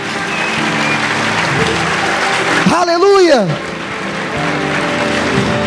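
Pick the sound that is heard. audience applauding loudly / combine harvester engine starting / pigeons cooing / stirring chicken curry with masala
audience applauding loudly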